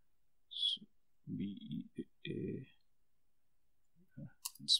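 Computer keyboard being typed on at close range, a few short clusters of soft clicks separated by pauses, with faint chirps at the very end.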